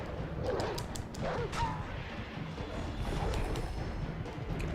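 A dog barks a few times during gameplay of God of War 2, the yaps mixed in with game noise and a low rumbling bed.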